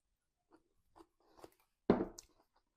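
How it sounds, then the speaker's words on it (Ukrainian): A few soft, sparse crunches followed by one louder, close bite, the crisp sound of chewing firm, crunchy Korean-style spiced carrot. "хрумка морква"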